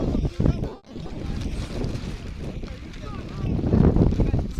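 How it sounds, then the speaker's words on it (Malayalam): Strong wind gusts across a hilltop at Kakkadampoyil, buffeting the microphone with a steady, roaring rush that briefly drops out before swelling again. "ഇവിടെ ഈ കുന്നിന്റെ മുകളിൽ നല്ല കാറ്റാട്ടോ"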